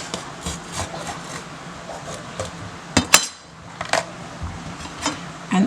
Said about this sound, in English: let me show you how I cut my peppers up